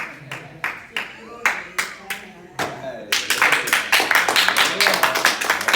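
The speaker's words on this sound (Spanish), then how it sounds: "¿Se atrevería usted a darle un aplauso al Señor?" Church congregation clapping, first in spaced rhythmic claps, then building into dense, loud applause from many hands, with voices mixed in.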